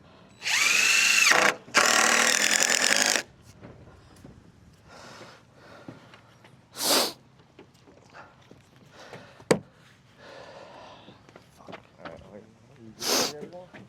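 A power drill whirs in two short bursts, rising in pitch, during a repair of an old wooden dock being rebuilt with composite boards, followed by scattered knocks, footsteps and quiet handling noise outdoors.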